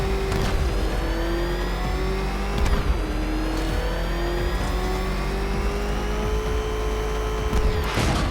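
The Batmobile in Batman Arkham Knight keeps up a loud, sustained engine drone with pitch slowly shifting as it revs, plus occasional sharp impact crashes.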